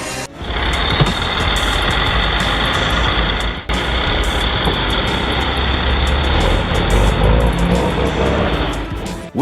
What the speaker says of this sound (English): Witness the DAF CF-85 in action, a robust machine equipped with an engine that conquers all terrains.